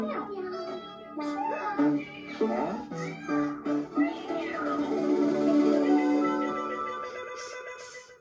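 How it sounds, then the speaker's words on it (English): Cat meows, several drawn-out, tonal calls in a row with a varying pitch, fairly loud, ending in a longer sustained wail. "Cats go meow."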